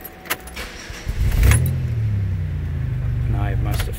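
A 2005 Chevy Impala with a 3.4L engine cranks and catches, then idles with a steady low rumble while its failing ignition switch is wiggled; brief key and switch rattles come before the start.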